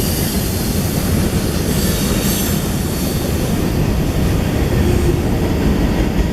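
CSX train rolling across a railway bridge in Chattanooga, a loud, steady rumble of wheels and cars with faint high squealing, continuous throughout and no voices.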